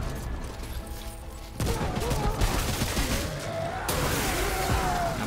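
Rapid gunfire in the shooter video game Remnant From The Ashes during a siege, dense crackling volleys that surge louder midway, with a voice faintly present beneath the shots.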